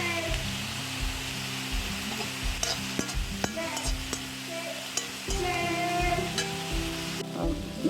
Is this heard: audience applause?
no